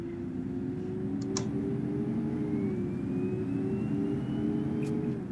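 A Volvo B10TL double-decker bus with Volgren bodywork drives along in the OMSI 2 bus simulator, its engine giving a steady, even hum with a faint rising whine and a couple of brief clicks.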